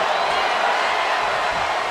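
Crowd at a wrestling match in the WWE 2K25 video game, cheering as a steady broadband roar that holds at a constant level throughout, with no distinct voices rising above it.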